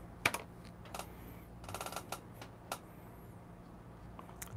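Typing a website address on a computer keyboard: a scattered run of light, faint keystroke clicks, some in quick bursts and others spaced apart, with no talking.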